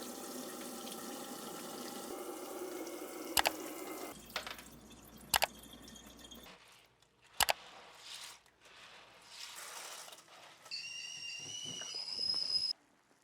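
Running water from a tap splashes over black-eyed peas being rinsed in a sink, broken by a few sharp clanks and a whistling squeal near the end.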